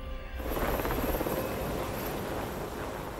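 A helicopter thrums steadily nearby, its rotor chop rising quickly and then holding as a dense, continuous roar.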